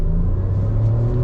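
A 2021 MG Astor turbo engine in first gear and sports mode revs loudly and close, its deep rumbling drone climbing steadily in pitch as it pulls toward the power band.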